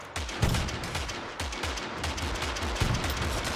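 Musket fire in Totally Accurate Battle Simulator: a run of sharp shots with booming low ends, coming in quick irregular bursts about a few per second, loud and close with no voices over them.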